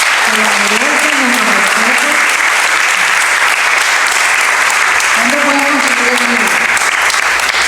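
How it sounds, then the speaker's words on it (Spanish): Sustained, loud applause from the audience at a book launch fills the room without a break, with a few voices murmuring underneath. "Yo quiero pedirles nuevamente un aplauso a nuestros compiladores"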